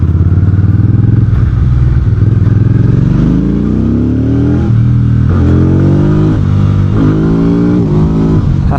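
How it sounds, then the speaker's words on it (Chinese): A VOGE CU625 AMT cruiser motorcycle accelerates hard, its loud close engine rising in pitch with each automatic upshift, producing several stepped climbs that drop and surge again. "625这个巡航车动力真的是强。"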